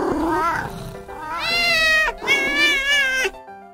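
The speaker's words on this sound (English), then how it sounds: "saw the two cats fight over the cheese" Two cats in a fairy-tale story fight over cheese, letting out loud, drawn-out, wavering meows and yowls in two long rising cries, close and harsh, with light noise underneath.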